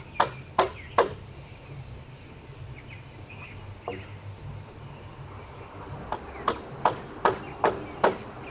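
A hammer drives nails through the tabs of a metal joist hanger into wood while building a floating shed foundation: a few sharp, close strikes at the start, sparse knocks in the middle, then a quick series of blows, with a steady insect-like whine behind.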